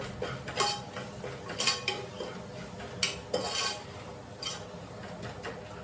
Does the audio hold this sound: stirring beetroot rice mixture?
yes